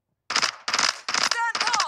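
Automatic gunfire in Call of Duty: Modern Warfare 3 rattles out in four loud, rapid bursts of roughly a third of a second each, close and harsh, with a voice briefly overlapping near the end.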